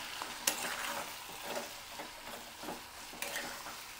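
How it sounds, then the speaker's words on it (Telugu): Okra (lady's finger) with lemon juice stir-fried in a pan: a faint, soft sizzle with occasional sharp clinks and scrapes of a spatula against metal, close and quiet, with no voices. "ఈ విధంగా వేయించుతూ ఉంటే ఈ జిగురు, నిమ్మకాయ వేసాం కదా మనం, అందుకని ఈ జిగురు మొత్తం పోతూ ఉంటుంది."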